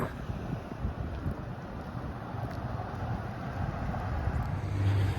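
Steady outdoor wind buffets the microphone along a trail beside Fisher Street in the Calumet wilderness, a continuous low rumbling roar that swells slightly toward the end, with no voices.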